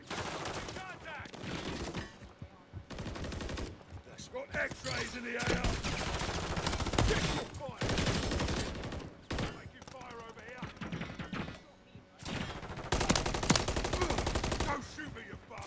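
Bursts of rapid automatic gunfire in a Call of Duty match, loud clattering volleys in repeated stretches with brief pauses between them, while players talk over the shooting.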